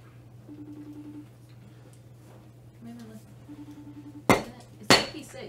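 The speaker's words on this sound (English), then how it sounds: "using the wrong side of the hammer" Two sharp loud hammer strikes near the end, each with a quick ringing decay, following quieter hum and faint tonal sounds with people talking.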